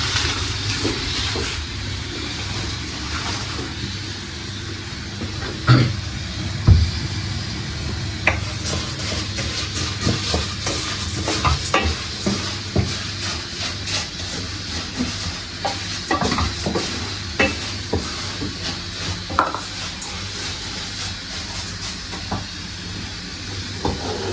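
Food roasting in a hot pan, a loud continuous sizzle broken by frequent scraping stirs and sharp clacks of the utensil against the pan.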